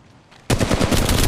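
Flatline rifle in Apex Legends Mobile opens up abruptly after a quiet moment, firing a loud, rapid automatic burst of evenly spaced shots.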